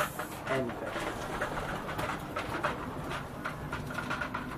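Pet racing pigeons coo in a loft over a steady background hum, with soft overlapping bird calls at moderate distance and faint voices in the room.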